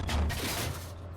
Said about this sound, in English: I believe that was an auto gunfire